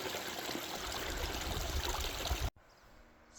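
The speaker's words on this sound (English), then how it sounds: "Here's some fresh snow melt water. Straight from the source." A mountain snowmelt stream flows in a steady, close, full rush of water on a backpacking trail, then cuts off abruptly into quiet outdoor ambience.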